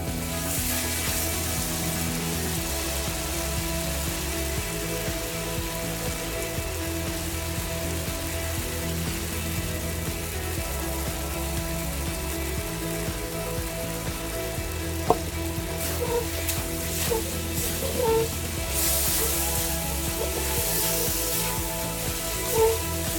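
Gravy with black fungus bubbles and sizzles in a pan, a steady close simmering crackle running throughout with occasional louder pops and stirring clinks, no voices.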